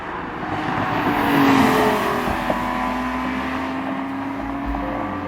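A 2009 Porsche 911 Carrera S, 997.2 generation with PDK gearbox, driving at steady speed, its engine a continuous moderate drone over road and wind noise with no talking.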